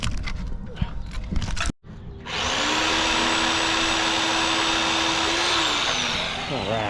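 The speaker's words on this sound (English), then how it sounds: "last cut for the day with this pruning blade attached to the sawzall" A Sawzall reciprocating saw fitted with a pruning blade cuts through a tree branch outdoors, a loud, steady buzzing drone that starts after a brief pause and a little handling noise, heard up close and running without pause for several seconds.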